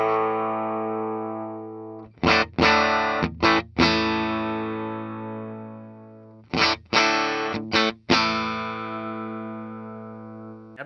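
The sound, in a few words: Fender Chris Shiflett Telecaster Deluxe bridge pickup played with distortion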